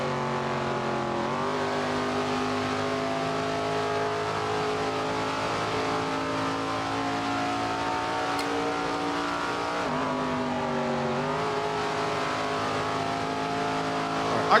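A late model race car engine in a racing video game holds a steady, loud drone, with its pitch dipping and climbing again at gear or throttle changes, running continuously throughout.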